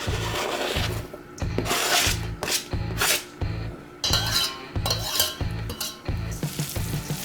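Diced white onion being mixed into a meatball mixture in a bowl, rough rubbing and scraping strokes that repeat in a steady rhythm, each about half a second long, close up with no voices.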